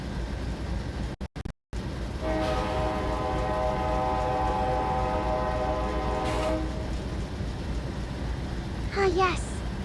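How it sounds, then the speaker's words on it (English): In a train simulator video game, a long steady locomotive horn blast sounds for about four seconds over a low rolling rail rumble, after a brief dropout; a short voice is heard near the end. "it has been a while since I've used the horn in this simulator"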